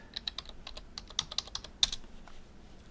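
Brisk keystrokes on a computer keyboard while entering a Laravel 11 artisan command in a terminal, a quick irregular run of close, crisp clicks with a slightly louder tap near the end, no voices.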